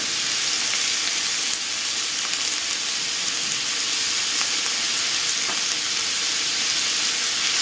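Mixed vegetables for a soup frying in a pan, a loud and constant broad sizzle with faint scraping of stirring, close and steady throughout with no talk.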